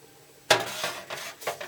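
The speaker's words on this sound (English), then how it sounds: "So that was an aluminum pan that I had that was all crusted over with grease" A crusted, greasy aluminum pan handled after a self-cleaning oven cycle, giving one sharp metallic clank followed by a few lighter scraping knocks and clinks, close by with no voices.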